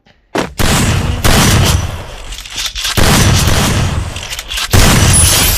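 Loud booming gunshots go off in a one-on-one video game match, several heavy blasts in quick succession with short gaps between them, close and dominant.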